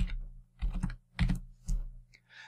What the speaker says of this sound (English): So that's typing in some source code.